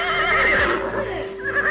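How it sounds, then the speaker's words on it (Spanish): A horse neighs in a loud, wavering whinny on a farm, the rising and falling call filling the short clip alone with a faint hoof clatter. "El caballo, que está en el establo"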